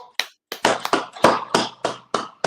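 Scattered hand claps from a small class, about nine sharp separate slaps in an uneven rhythm, fairly close and loud, with no talking.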